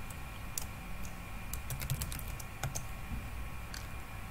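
Quiet tapping on a computer keyboard, scattered clicks and short bursts of keystrokes over a low steady hum, close but faint, with no voice.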